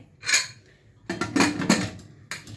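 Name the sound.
placing food into a pressure cooker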